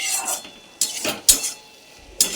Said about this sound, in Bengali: কিছুক্ষণ পর পর একবার করে নেড়ে চুড়ে নিতে হবে, তা না হলে এটা কড়াইয়ের গায়ে লেগে যাবে